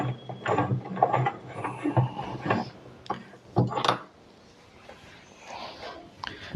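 A T-wrench loosening the check nut on a washing machine drum during servicing, giving bursts of close metallic ratcheting and clicking with a couple of louder knocks before quieter handling noise.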